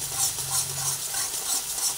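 Bitter gourd and spices being stirred and sautéed in a pan, a soft steady hiss with gentle rhythmic scraping pulses, moderately close.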